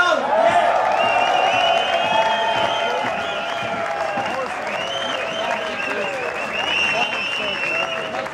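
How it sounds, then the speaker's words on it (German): A concert audience at a Star Club anniversary show applauds steadily, with cheering and whoops mixed in, loud and sustained throughout. "Applaus!"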